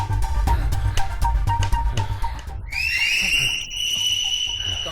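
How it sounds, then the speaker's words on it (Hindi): A person whistles during a search in a dubbed Hindi film scene, with a sharp high rising whistle cutting in halfway through over busy background noise and music. "सीटी क्यों मारी?"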